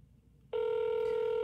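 Telephone ring tone after dialing a scam number, a steady electronic tone that starts abruptly partway through and holds at close range, alone without talk.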